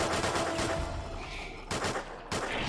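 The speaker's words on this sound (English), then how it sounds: "I got this beautiful pistol doing all this work" Pistol gunfire in Call of Duty Zombies, Storage of the Dead map, with a dense burst of shots at the start, then two more sharp bursts that stand out loud over the game's background sounds.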